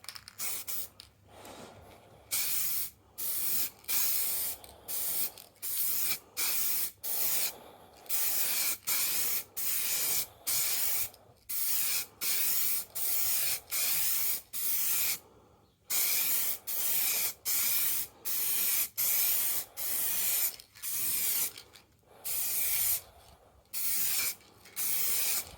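Aerosol spray paint going on as a first coat over a 1994 Jaguar XJS V12 spoiler undertray: loud, close hissing bursts, each a second or two long, repeated in a rapid steady rhythm with brief gaps, no voices.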